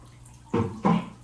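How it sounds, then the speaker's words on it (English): Water from a bucket is poured back into a 75-gallon fish tank in two quick, close splashing gushes, each a short rushing surge with no talking. "So this was me pouring it back in."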